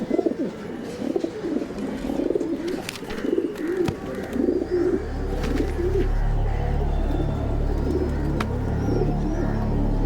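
Pigeons cooing on an open rooftop terrace, soft repeated throaty coos close by over steady wind and background hum, with no talking.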